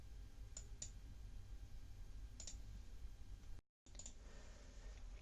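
A computer mouse clicks several times on a link, each click short and faint against a quiet room hiss, in small pairs spaced across a few seconds.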